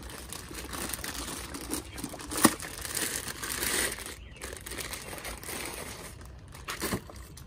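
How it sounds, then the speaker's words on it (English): A plastic bag around a Volt FX8LI cordless pool vacuum is ripped open by hand, giving continuous crinkling and tearing with one sharp louder rip partway through, close and fairly quiet. "Let's see how we can open this bag. I like to just rip things."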